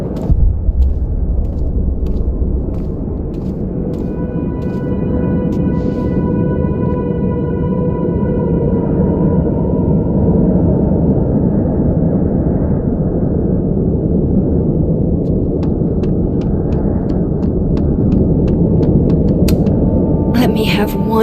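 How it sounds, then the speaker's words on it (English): A storm in Life is Strange: Double Exposure rumbles with a deep, continuous, loud roar that holds steady throughout, along with a faint tonal hum and a few brief higher clicks toward the end. "This storm is as bad as it looks."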